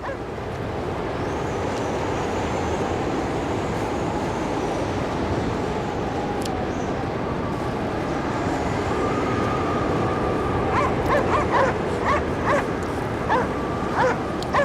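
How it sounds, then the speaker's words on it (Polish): A dog in the arctic video game Cryostasis barks in short bursts toward the end, over a steady rumbling wind-and-machinery ambience near an icebreaker. "Ale fajny piesek."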